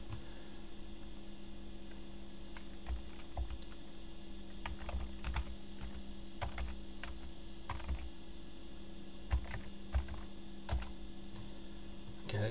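Someone types a command on a computer keyboard, a quiet run of irregular key clicks and taps in short clusters over a steady mains hum, with nobody speaking.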